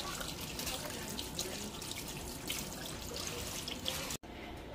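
Tap water runs steadily into a kitchen sink while hands are washed after handling raw chicken, a close continuous splash that cuts off sharply near the end.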